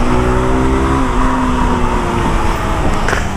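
Yellow 2022 Honda Titan motorcycle engine running steadily up close, its tone climbing and dropping as gears change, with no talking.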